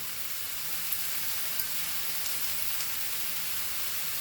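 Quiet, steady sizzling of onion and tomato frying in a pan for Goan pork chilli fry, a soft hiss with occasional faint crackles and no talking.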